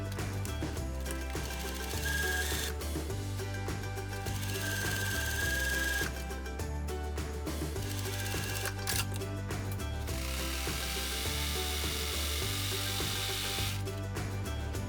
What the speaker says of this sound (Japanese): 肩の部分を縫い代1センチで縫ってロックミシンをかけておきましょう